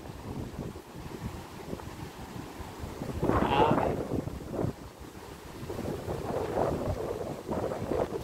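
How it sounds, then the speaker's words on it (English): Choppy seaside waves wash and crash near a sports bar and suites in Chania, Greece, mixed with wind buffeting the microphone, one louder surge midway and rougher swells near the end. "You can hear the sound of the waves crashing, because it's been choppy today."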